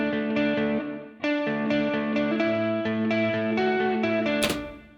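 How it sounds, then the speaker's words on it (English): An electric guitar plays chords and single notes through a mono-track insert reverb, each strum ringing out and overlapping, ending in a sharp burst of noise. "Now you have a little bit of reverb on that guitar channel if you're using an insert."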